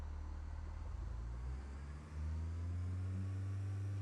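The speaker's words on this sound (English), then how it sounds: "we will advance throttle" Aircraft engine in a flight simulator cockpit spooling up as the throttle is advanced, a steady loud drone with low tones that climb and strengthen after a brief dip, the parking brake still set.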